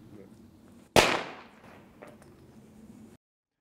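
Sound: commercial firecracker exploding on a pig's trotter

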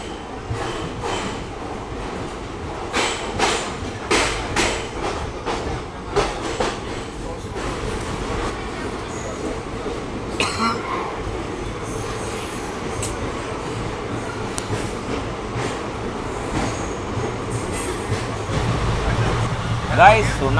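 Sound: express train departing and running

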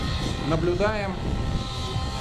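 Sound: radio-controlled model helicopters flying in pair

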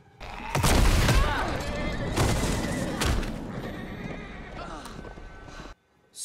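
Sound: horse neighing in The Walking Dead TV episode

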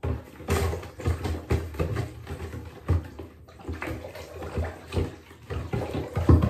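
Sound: stirring tie-dye water in a bathtub with a snorkel

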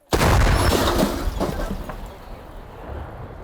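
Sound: artillery gun firing

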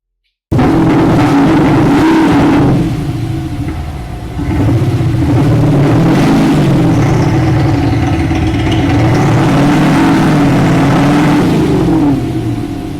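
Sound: electronic exhaust sound on SUV

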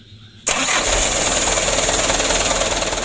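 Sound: Mitsubishi Canter 125 truck engine being started with the starter

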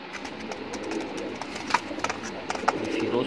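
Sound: Firozpuri pigeons cooing

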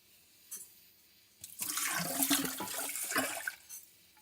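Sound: pouring drain cleaner into a clogged drain

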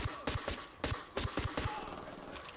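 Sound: pistol gunfire in Ghost Recon Wildlands video game

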